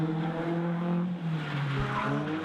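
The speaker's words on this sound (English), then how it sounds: "as Serge Struan spins out in the Mazda" A Mazda drift car spins out during a top-eight drift competition battle, its engine droning with harmonic tones while tires skid continuously throughout, loud and close.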